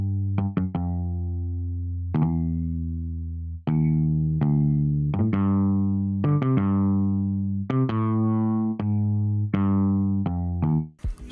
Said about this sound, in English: I immediately lay down some bass notes within a stock bass from Logic